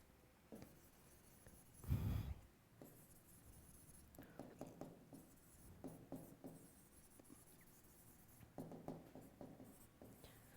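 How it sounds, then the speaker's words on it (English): A pen or marker writes on paper or a board in a science lesson, with faint scratchy strokes in short irregular bursts and one louder rustle near the start. "The same I am writing it here."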